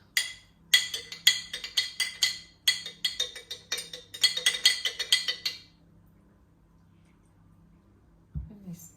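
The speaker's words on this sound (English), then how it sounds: "Take my spoon, gently stir it." A metal spoon gently stirs kefir grains in a glass jar, making a quick run of light clinks and scrapes for several seconds before falling quiet.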